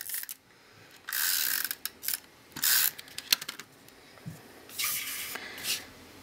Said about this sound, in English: I'm going to put some tape runner all along one side of the envelope